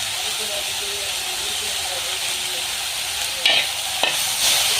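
Banana flower for a Kerala-style stir fry sautés in coconut oil with a steady, close sizzle and hiss, and a few brief scraping stir strokes near the end.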